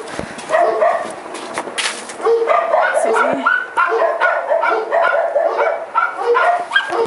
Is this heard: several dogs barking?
yes